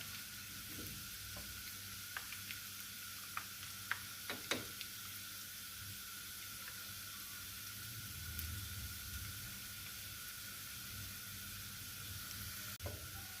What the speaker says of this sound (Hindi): तड़का हमारा तैयार हो रहा है।